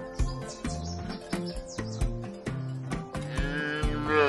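A cow moos on a farm, several drawn-out lowing calls over light music-like tones, with birds chirping faintly in the background.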